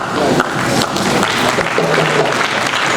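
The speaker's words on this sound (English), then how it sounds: "Please, a round of applause for Senate members, for professors, deans, faculties, and heads of departments." A hall audience at a university inaugural lecture claps for senate members, professors and deans; dense, even applause fills the room at steady loudness from start to finish.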